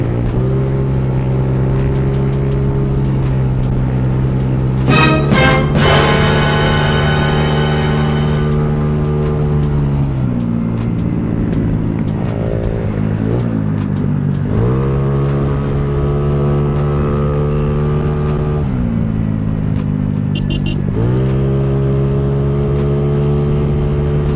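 A Yamaha Mio scooter races against a Sigma 200, its engine droning loud and close throughout, the pitch climbing and dropping as the throttle revs and eases.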